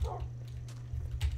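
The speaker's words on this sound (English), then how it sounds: "Okay, that dog next door is pissing me off" A neighbor's dog barks next door: a few faint, distant yips and barks at the start and end, heard over a steady low electrical hum.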